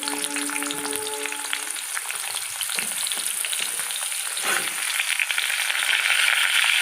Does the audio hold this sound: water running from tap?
no